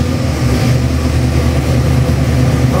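Rebuilt Ford 351 Windsor V8 with a roller cam and twin carburetors in a 1957 Fairlane, running loud and close with a steady, dense rumble that holds at a fast idle without a break.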